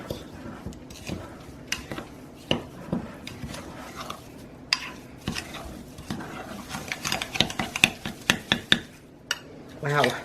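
A utensil stirs and scrapes lemon sugar scrub around a bowl, making irregular clinks and gritty scrapes at close range, with a little speech between them.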